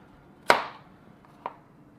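A sharp knife chop through yam against a board, followed a second later by a softer, shorter tap; no talking.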